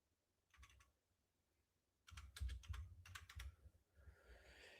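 Quiet keystrokes tap on a computer keyboard, first as a short burst and then as a longer run of rapid typing, close by with no talk.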